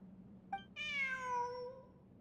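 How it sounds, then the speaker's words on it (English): A cat in a video game gives a short chirp and then one drawn-out, falling meow, close and fairly quiet over a low background hum. "Look, a cat."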